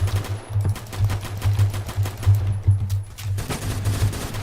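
Scar PDW submachine gun firing in Phantom Forces, heard as a fast, steady automatic rattle of shots that continues almost unbroken, close and loud, with a brief slight gap near the end.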